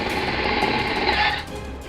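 A power drill fitted with a 16 mm metal bit boring a hole, a loud close buzzing grind held steady for about a second and a half before easing off as it breaks through.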